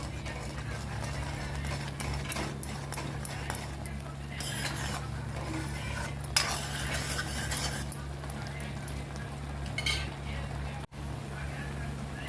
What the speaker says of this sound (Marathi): आता आपण जे ड्रायफ्रूट आपण घेतलेले आहेत गरम करून ते टाकून घ्यायचे आणि व्यवस्थित परतून घेऊया